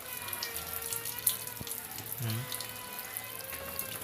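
Water runs from a tap into a basin, a soft continuous splashing with faint trickles and a low hum in the background.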